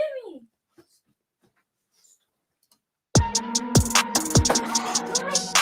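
Two Chihuahuas fighting, a burst of loud, close yipping, snarling and whimpering that starts abruptly after a few seconds of near silence and continues in rapid overlapping bursts.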